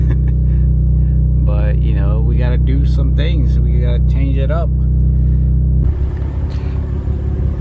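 A tuned BMW B58 engine fitted with a BMS intake idles as a steady, deep rumble close by, with someone talking over it throughout; the tone shifts slightly near the end.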